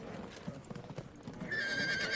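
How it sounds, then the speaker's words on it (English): Horse hooves clip-clop in a steady, busy rhythm with a brief whinny, part of the Field of Glory 2 battlefield as horse archers move up, with a bright tone rising over the final moments. "Let's move up our horse archers here."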